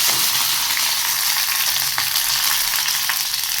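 Capsicum pieces fry in hot oil in a pan for a mixed vegetable dish, giving a loud, continuous close-up sizzle with a few faint stirring scrapes and no voices.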